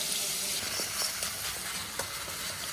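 Whole garam masala spices tempering in hot oil crackle and sizzle up close, with a few sharp pops over a steady hiss and no speech.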